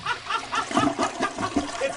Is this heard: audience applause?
no